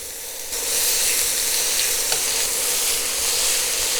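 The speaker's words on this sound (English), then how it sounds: "First burger, place down. Second burger, down. Third burger, down. And we press." Three smash burger patties sizzle and fry loudly in a hot pan, a steady broadband crackle that jumps up in level as the meat is pressed down, with no talking.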